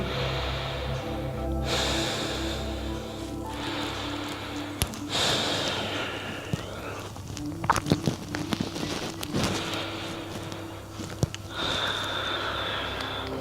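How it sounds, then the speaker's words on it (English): Deep, slow breaths during a yoga inversion pose, heard as long soft inhales and exhales with sniffs and a few brief clicks and rustles in a quiet room. "Stay here, doing deep abdominal breathing"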